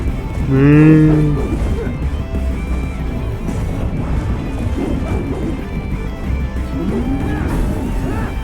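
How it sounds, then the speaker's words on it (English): A cow-like mech in Metal Gear Rising Revengeance lets out a single loud, drawn-out moo near the start, then stays quiet beneath a continuous rumbling, clanking game soundtrack. "It's like a cow mech."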